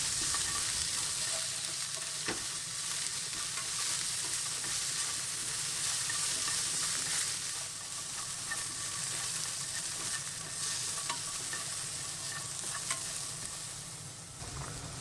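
Daikon radish peel stir-fries in hot sesame oil, a steady close sizzle with light scraping and the occasional sharp tap of a utensil against the pan throughout.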